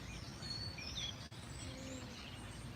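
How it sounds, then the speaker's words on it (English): Birds chirping and singing faintly in the background outdoors, several thin high tweets scattered over a quiet steady ambient hiss with no voices. "Can you guys hear all the birds in the background?"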